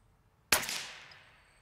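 An FX Impact air rifle fires once at a spinner target outdoors, a single sharp close report with a bright ringing tail that fades over about a second.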